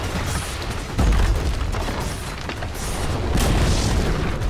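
Deep booming blasts as Dire's middle tower is destroyed in a Dota 2 match, a loud heavy thud near the start followed by rumbling impacts and another swell toward the end.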